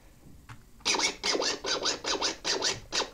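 Rhythmic scratching made with an audio cassette prototype device: about eight quick, loud back-and-forth scratch strokes with sweeping pitch, following a brief faint click and a short quiet pause.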